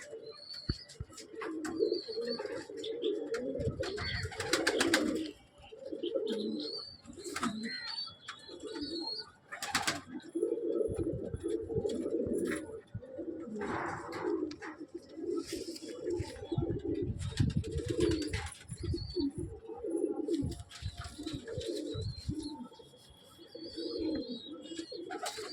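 Several pigeons coo over and over at close range, soft rolling calls that overlap in a steady stream, with a few brief bursts of flapping wings.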